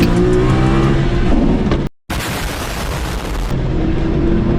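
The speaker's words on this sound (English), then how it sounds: "this is me blowing my gearbox at the drag strip last week" A Nissan R32 Skyline GT-R engine screams at full revs on a drag strip, cuts out abruptly for a moment as the gearbox fails, then returns with a harsh, grinding roar.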